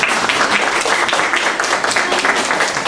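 Dense, steady applause from a crowd, continuous clapping filling the whole stretch with no pauses.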